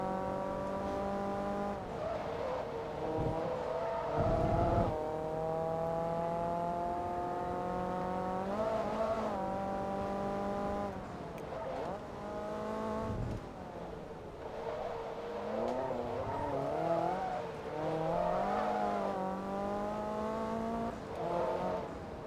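A race car engine in the Forza Motorsport 2 video game drones loudly and steadily, its pitch rising through the gears and falling on shifts, with short bursts of tire squeal mixed in.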